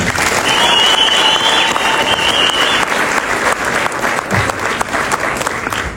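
Audience applause at the premiere of the film Kebad Mafiya, a loud, dense clapping from a crowd that carries steadily through the whole stretch with only slight swells and dips.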